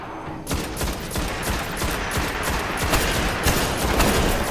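Rapid automatic weapon fire in the sci-fi shooter video game Destiny, a dense sustained stream of shots with no talking over it.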